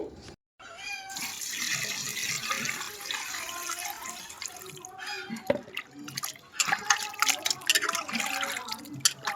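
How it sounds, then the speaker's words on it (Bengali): Pieces of desi rooster chicken are rinsed under running tap water. Irregular splashing and dripping continues close by with a few sharper knocks, and no one speaks. "এবার মুরগির মাংসগুলোকে ধুয়ে নিতে হবে"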